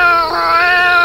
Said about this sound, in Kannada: ಅದು ಬೆಕ್ಕು.